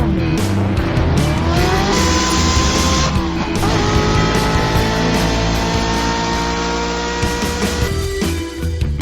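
A Ferrari racing car engine in a video game, loud and continuous, with rising and falling revs, gear shifts and tire squeal throughout.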